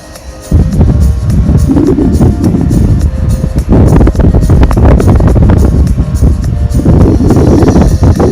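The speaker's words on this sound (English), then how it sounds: "40 mph to 50 mph gusts today." Strong 40 to 50 mph wind gusts buffet an outdoor fishing match where an angler fishes a waggler for roach, roaring loud and continuous with surging, buffeting bursts across the microphone.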